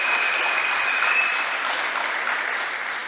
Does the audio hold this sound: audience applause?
yes